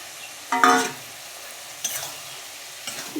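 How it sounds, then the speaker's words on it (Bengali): Fried potatoes and soybeans drop into a simmering Bengali curry and get stirred, giving a loud splash and sizzle followed by two smaller scraping stirs. The clip stays quiet between them. "এবারে ভেজে রাখা আলু আর সয়াবিনগুলো দিয়ে দেব"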